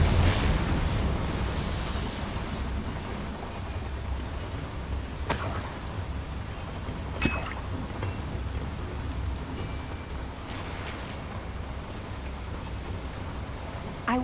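Confringo explosive spell striking a boiler in the Hogwarts Legacy video game: a few sharp, loud blasts burst out over a steady rumbling background.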